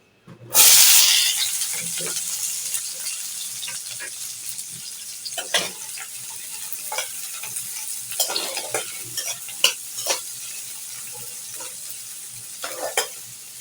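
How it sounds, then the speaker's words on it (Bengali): Onions hit hot oil in a wok with a sudden loud hiss, which settles into a continuous sizzle. Scraping and stirring knocks from a utensil recur over the frying. "তেলটা গরম হয়ে গেছে, এখন দিয়ে দিচ্ছি পেঁয়াজ।"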